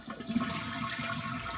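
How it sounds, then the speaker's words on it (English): Toilet flushing in a home bathroom, a steady rush of water draining through the bowl for the whole moment, fairly close and without talk. "Now we'll flush the toilet."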